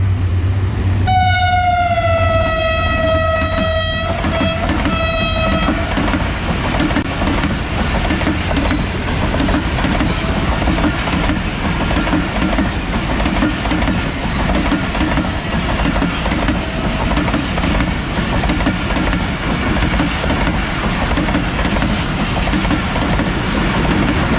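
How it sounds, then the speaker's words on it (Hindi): A Karachi express passenger train running between Karachi and Haveli, HM 38-215, sounds a long multi-tone horn near the start, then rumbles past loud and close with steady wheel clatter for the rest. "ये आ रही है 11 अब हज़ार एक्सप्रेस कराची और हवेली के दरमियान चलने वाली"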